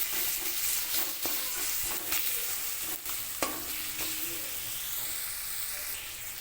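Soybean curry with tomatoes being stirred in a pan, a steady bright sizzle with scattered scrapes and clicks of the spoon against the pan throughout.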